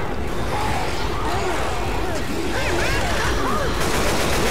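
Rapid gunfire from shooting zombies in Left 4 Dead 2, a dense continuous stream of shots with game noise and talk mixed in throughout.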